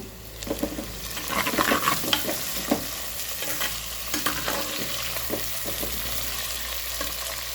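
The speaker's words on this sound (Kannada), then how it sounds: "ಸ್ವಲ್ಪ ಚೆನ್ನಾಗಿ ಎಣ್ಣೆಯಲ್ಲಿ ಫ್ರೈ ಆಗಿದೆ" Onion and tomato frying in oil in a pan, a steady sizzle broken by scraping and stirring clatter throughout, close and moderately loud, with no voices.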